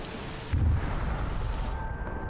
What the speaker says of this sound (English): Heard another explosion go off to the southeast.